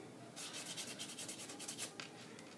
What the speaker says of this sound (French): je passe avec un bloc mauve pour venir vraiment m'assurer l'égalité de